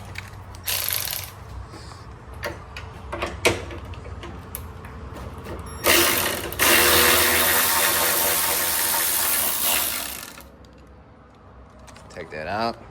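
A ratchet loosening a ground bolt on a Hellcat during a teardown, with quick ratcheting clicks in bursts and a long loud whirring run in the middle, close by, with someone talking between them.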